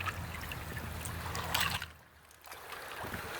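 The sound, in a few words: river water flowing over rocks, small waterfall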